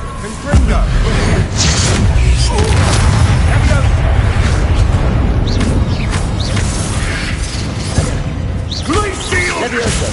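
Repeated Confringo fire-spell blasts from the Hogwarts Legacy video game, dense booming impacts and crashes layered with shouted spell calls throughout, loud and continuous over a rumbling game mix.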